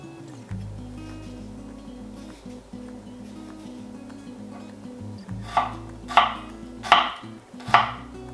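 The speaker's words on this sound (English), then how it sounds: "we're just going to cube that onion up" An onion is cubed with a knife: four sharp, evenly spaced chops on a board land close and loud near the end, after a stretch of low steady hum and faint kitchen noise.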